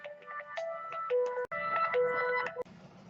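A telephone rings nearby in a room, sounding a run of electronic melodic ringtone tones in short repeating bursts that break off twice before a quieter tail, with no talking.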